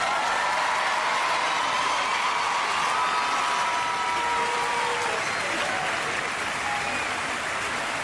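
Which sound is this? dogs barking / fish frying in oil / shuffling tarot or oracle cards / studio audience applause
studio audience applause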